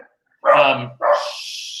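An adopted dog barks twice, close and loud, in a home setting: a full, throaty bark followed by a shorter second one that tails into a high whine, with silence before.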